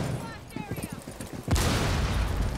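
Rapid gunfire hammers at a wall during a Rainbow Six Siege match, a loud sustained burst erupting after a stretch of quieter game noise, with voices talking just before.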